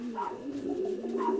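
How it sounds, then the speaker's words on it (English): A racing pigeon, a checker cock and international long-distance winner, coos softly in a few low, rolling phrases close by with no talk. "As I say, he's a class pigeon,"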